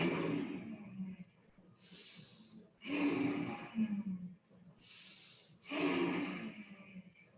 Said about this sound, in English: Inhale for your breath. And exhale.